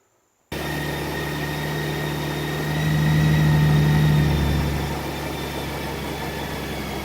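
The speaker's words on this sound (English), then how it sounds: "I'll start the bike up and start the warm-up" A Honda Goldwing motorcycle engine starts after a moment of silence and settles into a steady idle during warm-up, with the revs rising briefly midway before easing back down.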